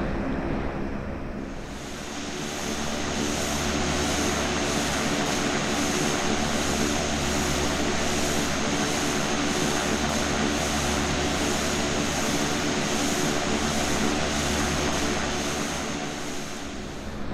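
A T-6A Texan II turboprop trainer drones steadily in flight simulator FSX, a loud continuous propeller engine roar with a faint rhythmic pulsing, holding level throughout.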